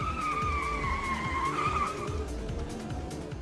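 A car in a Psycho-Pass: Mandatory Happiness video game scene pulling away in pursuit, tires squealing in a long, high skid over a low, throbbing engine, loud and close before easing off.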